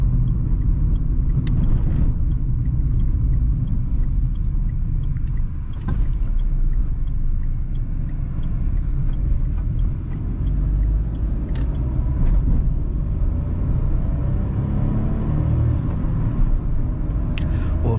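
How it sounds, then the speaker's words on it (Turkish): Continuous turbocharged engine rumble from the cabin of a Renault Symbol 0.9 TCe, low and steady, with occasional clicks and knocks, no voices. "turbonun sesi kulağa güzel geliyor"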